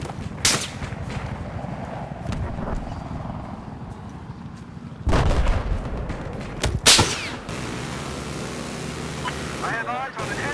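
Sharp bursts of gunfire and booming blasts punctuate a rumbling, busy game soundscape, with a voice talking intermittently over the action.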